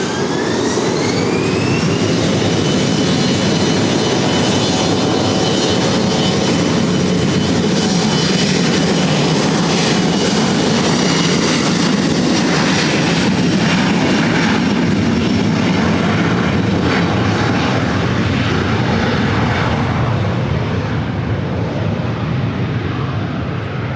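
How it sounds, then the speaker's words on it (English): A Delta Connection airliner takes off at LAX. Its jet engines roar loudly and steadily the whole time, with a rising whine near the start and the noise slowly fading at the end. No voices are heard. "This is Delta Connection 3842 taking off to San Jose."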